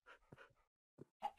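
Dog-like wolf in the Minecraft video game panting in short quick breathy bursts, close and faint, with brief gaps between puffs.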